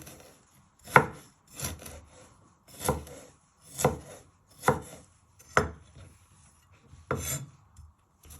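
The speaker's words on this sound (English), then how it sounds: "And then you just want to chop it really fine." A knife chops ginger finely on a board while preparing a beef Madras: about eight evenly spaced, crisp chops, quiet and close, with nothing else heard.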